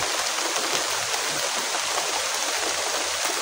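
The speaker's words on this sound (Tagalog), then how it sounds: "Lumalakas talaga ang ulan ng ginaw." Heavy rain pours steadily and strengthens, a dense, continuous broadband wash of water close by with no voices over it.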